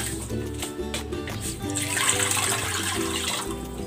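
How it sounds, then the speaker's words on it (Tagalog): Water running and splashing into a cooking pot, a steady close gush with bubbling tones over a low kitchen hum. "Lagyan natin ng tubig."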